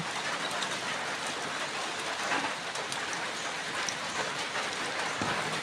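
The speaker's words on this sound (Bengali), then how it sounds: "ঠিক এই মুহূর্তে আল্লাহ তাআলা বৃষ্টি দিয়েছেন।" Sudden rain falling, a steady, moderately loud patter and hiss of drops on surfaces that continues evenly throughout with slight swells, no voices over it.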